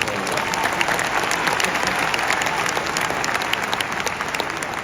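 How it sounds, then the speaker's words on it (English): An audience at a high school graduation claps steadily and fairly loudly, a dense, even wash of applause sustained throughout. "give him a round of applause"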